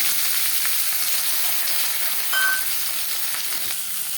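Chopped onion frying in refined oil, a steady close hiss of sizzling with faint crackles and a brief brighter spurt midway, no voices.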